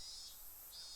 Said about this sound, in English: You can hear the higurashi right now.